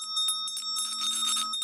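A notification bell rings twice in a bright, sustained metallic tone with a shimmering overtone, close and clear, as faint voice-like sound trails underneath.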